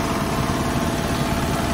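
A power tiller engine runs steadily at idle for the whole moment, a close, continuous low mechanical rumble with vibration and no talking.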